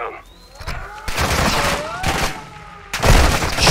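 Loud bursts of automatic gunfire in the Call of Duty Modern Warfare II video game, rapid fusillades with a pause in between, plus a voice speaking briefly.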